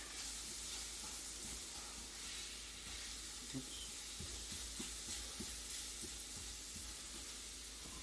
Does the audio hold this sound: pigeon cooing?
no